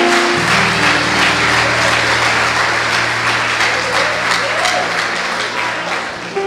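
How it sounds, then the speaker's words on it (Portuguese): A church congregation applauds together for several seconds, a steady loud wash of clapping with a low sustained tone beneath it. "Aplauda ao Senhor nessa noite."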